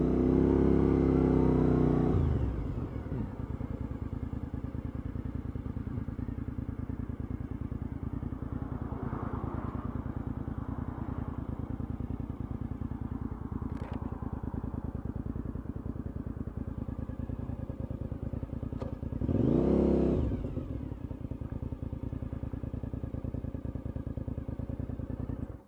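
A 1999 Suzuki TL1000R motorcycle engine runs steadily with a low, even rumble, broken by two loud revving bursts, one at the start and another about twenty seconds in.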